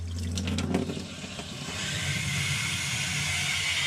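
Water rushes steadily out of an AquaSure Harmony water softener during its rapid rinse cycle, a constant hissing flow that follows a few faint knocks.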